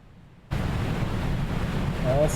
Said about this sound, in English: that's the sound of the reservoir going.